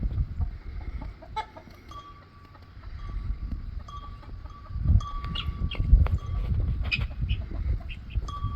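Chickens, roosters and guinea fowl cluck and call close by on a farm, with repeated sharp squawks and chatter building through the middle and end, over a steady barnyard background.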